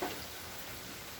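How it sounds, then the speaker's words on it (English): Steady, even rain falls during Hurricane Ian at night beside a screened porch, a soft broadband hiss that stays constant and fairly faint throughout, with no voices. "Not a driving rain, but a steady rain."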